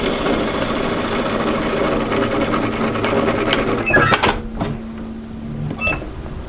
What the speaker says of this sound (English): All we're doing basically is sewing directly through the middle.